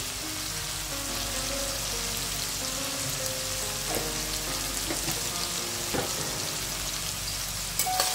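Prawn and rice mixture sautéing in a pan, a steady broadband sizzle and crackle running throughout with occasional stirring scrapes, close and continuous with no talk.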